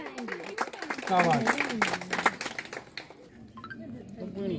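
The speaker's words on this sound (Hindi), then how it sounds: "तालियां बजाओ।" Scattered clapping from a small group at a school gathering in Bhelli, Doda, mixes with lively voices and chatter, the claps loudest in the middle before thinning out.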